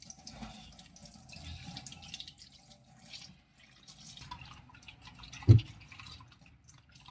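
Running tap water splashes and drips as a printer ink container is rinsed clean under a faucet, a steady close wash with one louder knock near the end.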